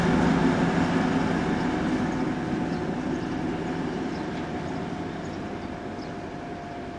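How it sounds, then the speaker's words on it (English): A former DR Class 120 diesel locomotive of Russian M62 design, run by a track maintenance company, rumbles through a station with a steady low drone and rolling wheel noise, slowly fading. "former DR Class 120, a Russian M62 design, now owned and run by a track maintenance company, heads north through the station"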